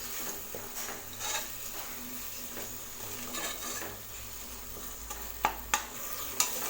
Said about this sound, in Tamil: தக்காளி நல்லா வதக்கி விட்டுடலாம்.